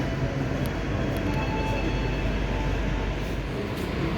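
Steady rumble of the Gunung Jati train in motion, as heard from inside its dining car on the Jakarta–Cirebon run: a continuous broadband roar of wheels and carriage noise at constant loudness, with no voices.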